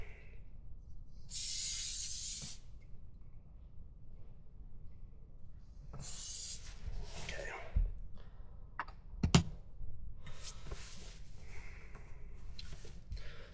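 Short hissing bursts of an aerosol protectant spray on a 2019 Yamaha AR190 boat engine, a few seconds apart, with quiet handling clicks and rustling between them.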